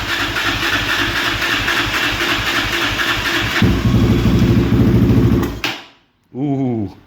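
A Yamaha Raptor 660R ATV engine, overhauled, runs with a steady loud chugging idle that rises in pitch partway through, then cuts out abruptly, followed by a brief whirring restart attempt.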